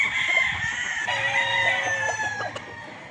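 Boston Roundhead gamefowl rooster crowing at a game farm, one loud drawn-out crow close to the microphone, with faint clucks and chatter from other birds around it.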